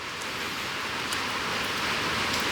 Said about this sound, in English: you probably couldn't hear it because of the rain